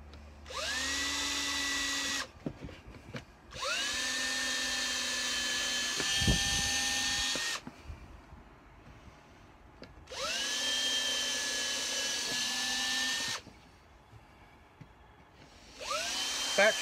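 A Ryobi cordless drill pre-drilling wood whirs up to a high whine three times, each run lasting a few seconds, with soft clunks in the pauses between.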